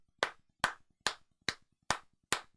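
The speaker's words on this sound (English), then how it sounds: "Let's give the cousins, brothers a little clap as well." Slow, deliberate clapping from an audience at a talk, six sharp claps spaced about half a second apart, each one crisp and clear against near silence.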